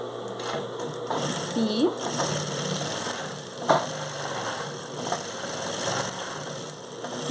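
Sewing machine stitching a narrow seam on a shoulder bag: a close mechanical whirring hum with a few clicks, running under a woman's speech.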